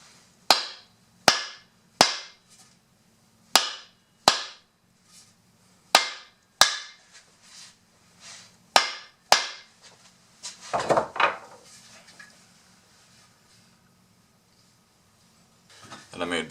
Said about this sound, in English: Give it a few more whacks and call it a day.